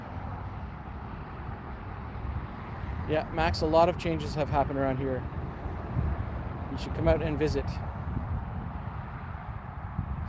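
Low traffic rumble from passing cars sits steadily in the background while someone talks over it outdoors, the noise never rising above his voice.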